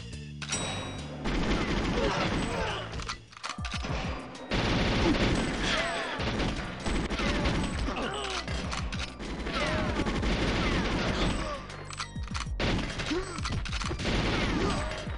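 Rapid ZMG submachine gun bursts from GoldenEye 007, played with mouse and keyboard, crackle in dense, repeated volleys across most of the stretch with brief pauses, mixed with mechanical clatter and game effects.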